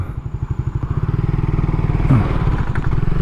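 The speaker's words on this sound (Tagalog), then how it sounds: "malapit mamatay yung makina" A Suzuki Raider 150 fi motorcycle engine chugs in slow, uneven pulses that sound close to stalling in second gear, then the revs pick up into a faster, rougher putter.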